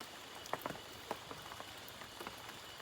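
Steady light rain drizzles at night on a shelter of teak leaves in the forest, with a soft continuous patter broken by a few sharper nearby drops.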